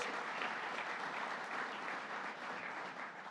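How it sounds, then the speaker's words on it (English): A crowd at a governor's workforce training center announcement gives Lieutenant Governor Kathy Hochul a round of applause, sustained dense clapping heard from a distance at an even, moderate level. "let's give her a round of applause."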